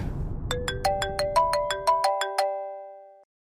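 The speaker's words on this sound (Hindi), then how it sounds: "आ गया फोन।" A phone ringtone plays a bright, tinkling melody of about a dozen quick chime notes in rising and falling steps, clear and close over faint low background noise, then stops abruptly.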